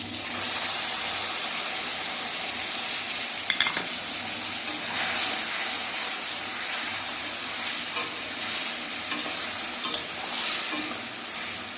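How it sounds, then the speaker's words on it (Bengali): Spices mixed with water being stirred in a hot pan for a Bengali rui fish curry, a continuous loud sizzle with occasional scraping and clinks of the spoon against the metal. "জল দিয়ে মিক্স করে নিচ্ছি"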